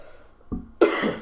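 A single short cough, preceded by a faint throat sound, close to the microphone.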